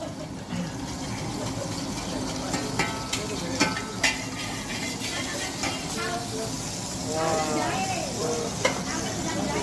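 Vegetables and raw meat stir-fried in ordinary cooking oil in a wok for Acehnese noodles, giving a steady sizzle with scraping clinks of a spatula under people talking nearby.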